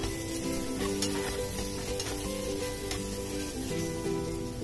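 Minced meat keema sizzles steadily in a pan, with repeated scraping and clattering as it is stirred through the hiss. The sound is continuous, close and fairly loud.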